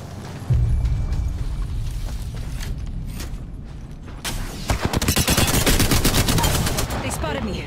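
Gunfire in Apex Legends, a dense loud stream of rapid automatic shots building into sustained bursts over a rumbling low backdrop, close and continuous toward the end.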